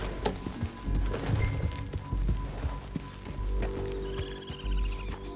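Horse hooves clop steadily in Red Dead Redemption 2, a moderately near trotting rhythm over low outdoor game ambience, with no talking.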